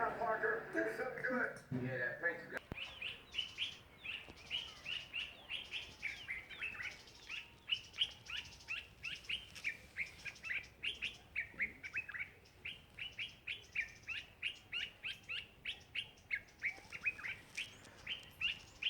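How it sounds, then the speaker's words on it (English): A flock of birds in a Zimbabwe yard chirps busily in rapid, repeated bursts of tweets, moderately near, after a brief stretch of people talking at the start. "Birds are making a lot of noise"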